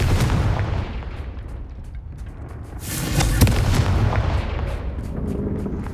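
A Confringo blasting spell detonates in the Hogwarts Legacy video game, a sustained rumbling burst of explosive noise that swells midway and lingers loud across the whole stretch, with no speech.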